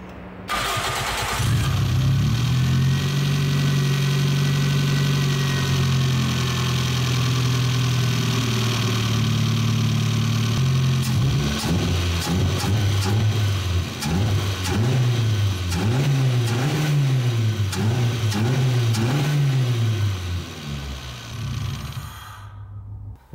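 A car engine fitted with a modified intake manifold and larger throttle body idles steadily and loudly, then revs up and down in a series of repeated throttle blips before settling, with no talking.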